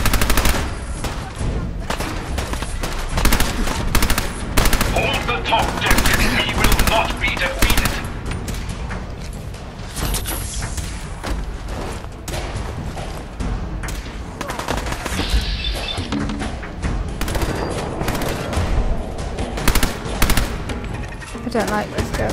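In Fallout 4, a gun fires over and over in loud, close, rapid bursts with short pauses, and a voice talks intermittently beneath the shots.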